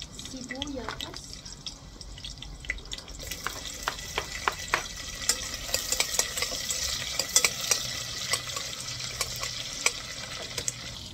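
Garlic and onion sautéing in hot cooking oil, a rising sizzle with frequent sharp clinks and scrapes of stirring, and a brief voice near the start.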